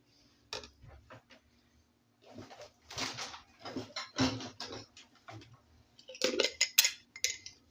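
Plates and cutlery clink and scrape in a quiet kitchen as a purslane dish is served onto a plate, with scattered close taps of metal on ceramic and busier clatter near the end.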